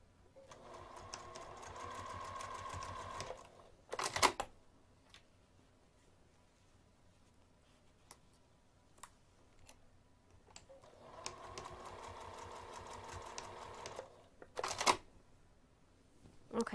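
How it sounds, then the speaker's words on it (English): A sewing machine stitches along a drawn line on fabric in two steady bursts of rapid needle chatter, separated by a quiet pause with a few small clicks and thumps. "we're going to sew directly on top of the line from here to here, and same thing on the other end"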